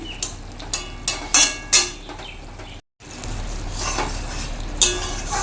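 A spoon stirring drumstick stalks with poppy seed in a pan, with a series of sharp metallic scrapes and clinks close up, a brief gap of silence, then softer stirring and one more clink.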